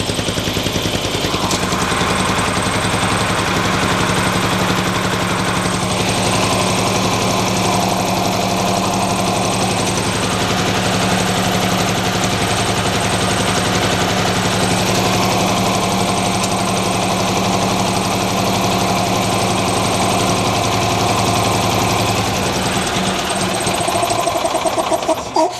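A restored Cushman engine idles steadily, a loud, even, close mechanical chugging that runs unbroken throughout with no talk.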